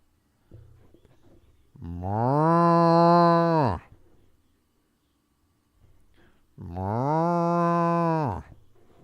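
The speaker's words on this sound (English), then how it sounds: "Hey, Isaac, get those cows in." Two long, loud cow moos, each lasting about two seconds, ring out at a baseball game between Baltimore and Minnesota, with quiet crowd noise and talking in the gaps.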